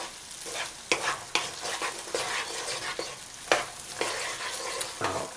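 Onions and garlic sautéing in a pan, a steady close sizzle broken by repeated sharp scraping stirs.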